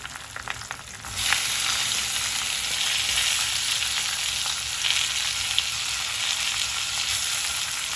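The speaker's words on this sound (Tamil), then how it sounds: "வெங்காயமும் தக்காளியும் சேர்ந்து நல்லா வதங்கும்." Chopped tomatoes hit browned onions for a tomato chutney, setting off a loud, steady frying sizzle that starts abruptly and carries on close and even.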